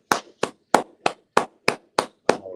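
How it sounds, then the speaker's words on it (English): Members of a brotherhood class clap in unison, eight sharp, evenly spaced claps close by in a quiet room. "Clap it up."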